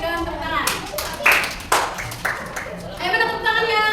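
Classroom of students clapping hands for a group: scattered, uneven claps with a few sharp louder slaps, mixed with children's voices talking over them.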